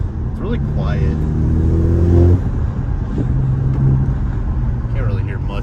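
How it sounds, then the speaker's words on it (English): A VW MK7 GTI 2.0T with an APR carbon fiber intake drives at partial throttle, its engine a low, steady drone that swells briefly, while someone talks over it inside the car. "now that we're driving, you'll be able to hear a lot more"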